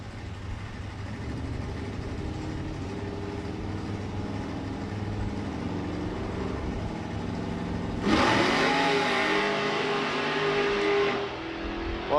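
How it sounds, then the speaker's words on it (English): Drag racing car engine idling and revving at the start line of a Santa Pod drag strip, a steady loud rumble that swells sharply into a harsher, louder roar near the end. "Brian Savage brings the 32 up to the line in the Auto Glim lane"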